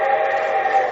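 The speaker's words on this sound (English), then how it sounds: "And here comes the Summer Show Train." A train whistle sounds as a train arrives, a steady, sustained tone lasting about a second with nothing else heard.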